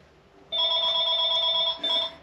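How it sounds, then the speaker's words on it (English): Telephone ringing close by with a steady electronic trill lasting over a second, a brief gap, then a second ring starting, clear and alone without talk. "And there's the phone."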